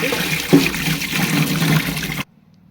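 Dried fish (shukhua) being washed by hand in water for an Odia village recipe, a close, steady sloshing and splashing that runs for about two seconds, then cuts off abruptly to near silence.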